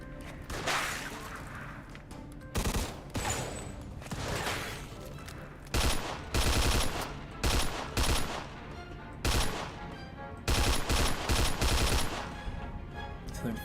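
Rifle fire rattles through a Mafia II shootout in repeated loud bursts and single cracks, with some passages of rapid automatic fire and brief gaps between volleys.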